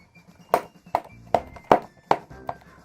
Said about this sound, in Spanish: el de mi agenda del cole, que es de papel, ¿no? Y vamos a ver cómo suena si la abro y la cierro.